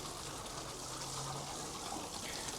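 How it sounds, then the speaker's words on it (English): Newly planted lettuces are watered in a greenhouse, a constant soft hiss of spraying and trickling water that holds at an even level for a few seconds. "And just water them in."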